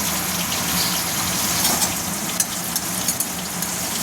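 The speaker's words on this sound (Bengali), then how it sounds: "তারপরে কড়ায় আবার একটু তেল দিয়ে একটু কালো জিরে একটু শুকনো লঙ্কা ফোড়ন দিতে হবে।" Nigella seeds and dried chilli temper in hot oil in a wok, a loud, continuous hissing sizzle with occasional sharper crackles.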